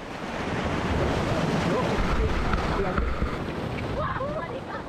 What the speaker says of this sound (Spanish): El río que ruge al atravesar el hermoso paisaje es el río Pato.